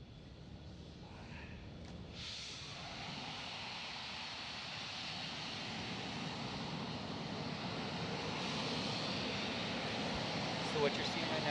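Methane-oxygen rocket engines spooling up on a first flight, heard from far off as a broad, steady roar that slowly swells in loudness, with wind noise over it.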